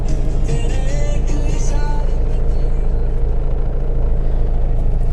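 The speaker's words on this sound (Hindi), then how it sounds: "काफ़ी लाउड इंजन है इस तरह से।" A 1988 Mitsubishi Pajero SUV engine idles loudly and steadily up close, a constant low rumble running throughout with some faint background noise on top.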